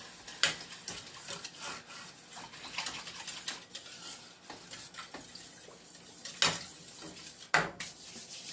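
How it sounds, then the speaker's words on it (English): Potato salad ingredients, including cut-up eggs, stirred in a bowl with a utensil, producing soft repeated scraping and clinking strokes close by, with a couple of sharper knocks and no talking. "let me go stir this."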